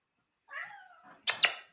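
A single short cat meow, fairly close and moderately loud, aboard a boat, followed by two sharp clicking or rustling noises; no talking.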